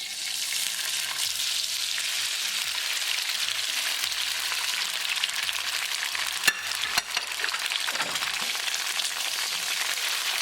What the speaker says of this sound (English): We're going to stir fry tofu first.